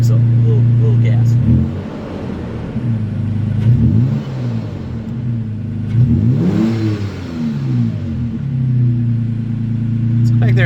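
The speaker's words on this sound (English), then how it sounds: "That is a much deeper tone. Let's give it a little gas." Tacoma TRD Off Road pickup truck with a Borla aftermarket exhaust revving outdoors, a deep low rumble rising in three or four throttle blips over a steady idle, with a person speaking over it.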